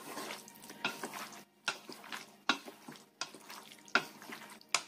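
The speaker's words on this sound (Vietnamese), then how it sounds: "Rồi, trộn lên." Salad of macaroni, vegetables and tomato being tossed with dressing in a bowl, giving repeated wet stirring and clinking bursts at a steady rhythm, close and moderately loud, with no talking.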